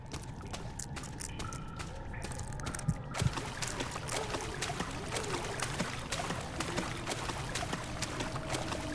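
Wading through water in Amnesia: The Dark Descent, with steady splashing and sloshing, irregular wet clicks and drips, and a couple of sharper knocks near the start, fairly close and continuous.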